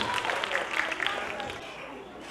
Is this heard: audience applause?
yes